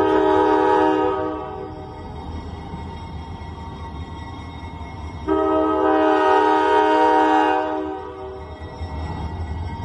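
A train rumbles past with a loud horn blast at the start and another midway, steady rolling noise between.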